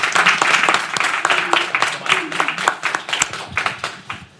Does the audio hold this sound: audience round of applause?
yes